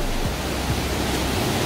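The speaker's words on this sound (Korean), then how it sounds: "가물을 때도 저 물은 흘러내려요." Bidulginang waterfall pouring between rocks in a basalt gorge, a steady, dense rush of falling water that stays loud and even throughout, with no speech.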